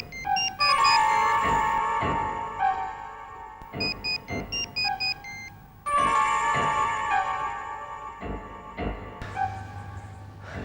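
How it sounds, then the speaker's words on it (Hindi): A mobile phone ringtone plays through a repeated melodic phrase, ringing loudly and unanswered for several cycles with brief gaps between them. "Why is he not picking up the phone?"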